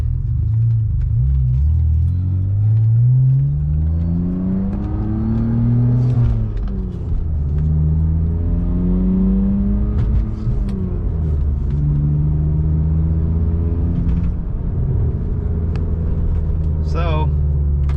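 A BMW E46 with two Cherry Bomb glasspack mufflers fitted to the exhaust, a deep, loud rumbling drone that rises and falls through several revs over a long stretch, close by, with speech faintly underneath.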